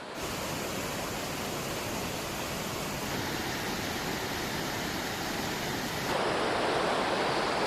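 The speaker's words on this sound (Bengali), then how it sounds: "পাশেই রয়েছে এই সুন্দর আরেকটি ঝর্ণা" A waterfall on the Balason river near Sonada, Darjeeling District, roars steadily and continuously, a dense, even rush of falling water with no voices.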